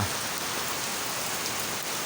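Steady rain pours down outside a house, a dense, even hiss of drops on surfaces that continues without pause.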